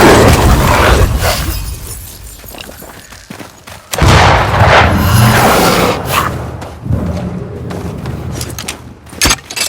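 Loud sharp blasts of a lantern rifle firing in the Banishers: Ghosts of New Eden video game, a few heavy cracks with crashing debris and rumbling game effects between them.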